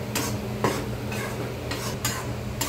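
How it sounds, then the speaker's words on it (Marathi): Dry gram flour (besan) being roasted in a kadhai, a spoon scraping and stirring in repeated strokes with a few sharper clinks against the metal over a faint background hiss. "आधी कोरडं बेसन घ्यायचं कढईमध्ये, आणि हे कोरडंच जवळजवळ 4 ते 5 मिनिटं आपण चांगलं भाजून घेणार आहे"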